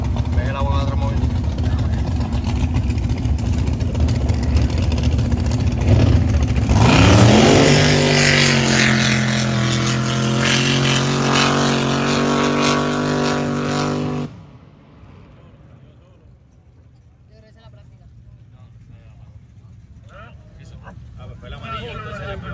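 A racing motorboat engine roars loudly at a 2023 boat race in Marble Falls, Texas, rising sharply in pitch as it revs midway, then cutting off to quieter ambience while people talk nearby.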